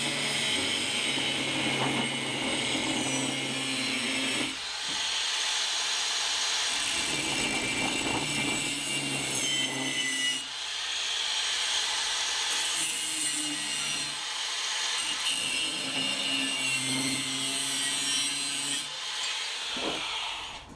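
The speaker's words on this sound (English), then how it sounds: "I'm gonna cut this tube at 1 inch" Saw cutting through a steel tube in a shop, long repeated rasping back-and-forth strokes, loud and close, with brief pauses between bursts over about twenty seconds.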